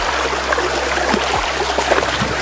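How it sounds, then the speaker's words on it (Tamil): River water rushes and splashes around someone's legs as they walk through it on a forest trek to a waterfall, a loud, steady broadband wash that stays close throughout. "ஐயோ, தண்ணிக்குள்ளே தான் நடந்து போயிட்டுருக்கேன் ஆற்றுல"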